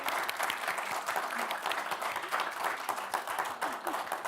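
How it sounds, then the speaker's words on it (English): A big round of applause from the audience at a Dartmouth panel event, dense steady clapping filling the room from start to finish with a faint voice or two underneath. "If you'd all join me in giving a big round of applause."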